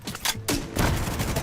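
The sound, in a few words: gunfire from the video game The Division 2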